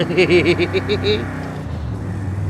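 A 1991 Bentley Turbo R in Forza Horizon 5 revs up in a pulsing rise and drops away as it shifts gear. Engine drone follows, loud and close, with a voice speaking over it.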